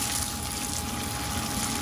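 Cooking oil poured into a pan for Thai northern-style curry paste, a loud, steady, continuous liquid rush up close with no break and no talking.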